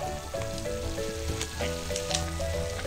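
Sapporo Ichiban soy sauce ramen noodles cook in a pot of water, giving a soft, steady bubbling sizzle with faint clinks, fairly quiet and close, with no voices.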